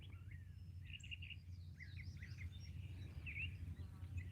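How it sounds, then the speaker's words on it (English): Birds sing and chirp on a rural Tennessee property, several scattered calls and trills at moderate distance over a steady low hum, with no talk. "Listen to the birds."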